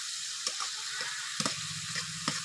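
Tilapia fish and ground chilli, coriander and cumin sauté in a pan with a soft, steady sizzle, punctuated by a few sharp scrapes of a spatula.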